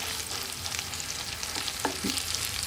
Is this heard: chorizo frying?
yes